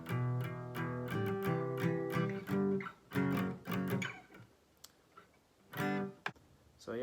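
Strummed acoustic guitar playing the chorus of a song, with rhythmic, percussive strums and choppy stops, thinning into scattered muted hits toward the end; no talking.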